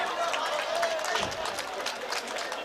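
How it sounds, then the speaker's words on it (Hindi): A crowd at a mushaira poetry gathering breaks into sustained applause, dense clapping that fills the space continuously from start to finish, heard at moderate distance. "जोरदार तालियां बजाएं"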